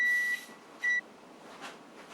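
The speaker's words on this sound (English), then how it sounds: "I was cooking potatoes and the timer went off" A kitchen timer sounds two sharp electronic beeps in a quiet home kitchen while potatoes cook, the second beep shorter, followed by faint room noise.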